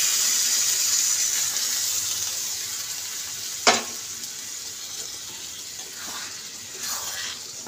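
Dal poured into hot tadka sizzles and fries steadily in the pan, with a sharp splash as it goes in and occasional stirring scrapes; no one talks.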